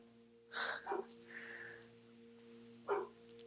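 A dog barks and huffs in a few separate bursts, close by and moderately loud, over a quiet indoor background with a faint electrical hum.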